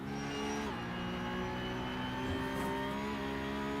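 A Porsche race car at Watkins Glen holds a steady, droning engine note. The pitch shifts slightly early on, then the tone stays even and moderately loud, with no voices.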